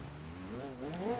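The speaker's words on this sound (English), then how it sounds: "That's a lot of turbo noise." A turbocharged car engine in BeamNG Drive multiplayer racing whines and rises in pitch at moderate loudness, climbing twice in quick succession with a faint hiss.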